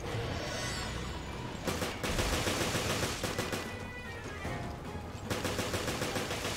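Gunfire in the Resident Evil: Revelations video game, bursts of rapid automatic shots aimed at an invisible hunter, loud and dense in two long volleys separated by short pauses.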